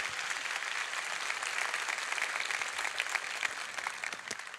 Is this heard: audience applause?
yes